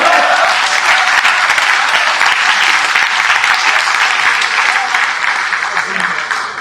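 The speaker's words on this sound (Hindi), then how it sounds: "ये तालियां क्या है" Audience clapping at a Hindi kavi sammelan poetry recital, a loud, dense, sustained round of applause filling the hall for several seconds and tapering slightly toward the end.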